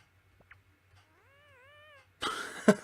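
A cartoonish cat meow from the Yume Nikki video game, a single wavering tone that rises and falls, sounding alone over a faint low hum, then followed by a loud burst of noisy game sound.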